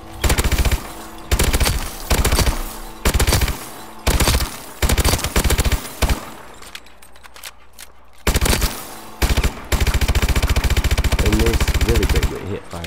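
Automatic weapon gunfire in Call of Duty: Advanced Warfare, loud rapid bursts of shots repeating in roughly one-second volleys with short pauses, one longer quiet stretch in the middle, and a voice speaking near the end.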